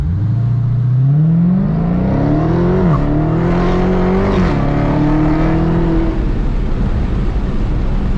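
Dodge Hellcat accelerating hard in track mode, a loud close engine roar climbing through rising revs with brief gear-change dips before settling into a steady high drone.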